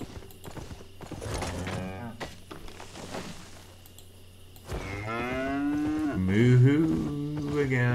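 Cattle in the video game Albion Online give several long, loud moos, with hoof clip-clops and a low hum underneath.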